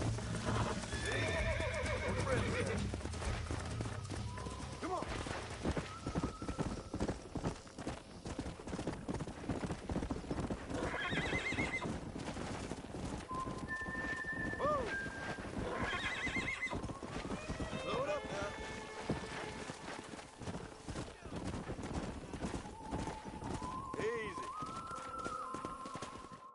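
Horse hooves clip-clop in a rhythmic gallop with neighs and whinnies in the video game Red Dead Redemption, while people talk over the soundscape and birds chirp faintly.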